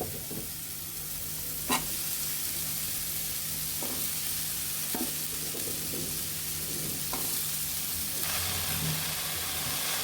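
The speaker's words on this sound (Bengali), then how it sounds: "মশলাটা ভাজা ভাজা হয়ে গিয়েছে এখন আমরা সবজিগুলো দিয়ে দিব" Vegetables tipped into fried spices for a Bengali prawn chorchori sizzle with a steady, soft hiss, broken by a few sharp clicks of a spoon against the pan.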